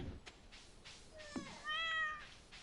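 A cat meows in the farming video game Stardew Valley, one short, fairly clear tonal meow near the end after a few faint clicks, with no talking.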